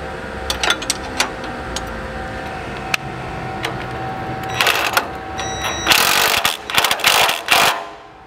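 A ratchet tightening the suspension bolts on a Panhard car, making rapid runs of loud, close clicking and buzzing in bursts with short pauses, and no talk.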